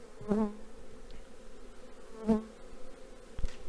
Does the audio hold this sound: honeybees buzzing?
yes